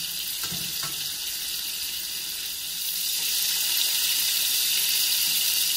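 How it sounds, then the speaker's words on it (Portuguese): Spicy Portuguese-style pork frying in a pan, a loud steady hiss and sizzle that swells louder toward the end, with a few clinks of stirring early on. "vou fritar primeiro uma parte e depois"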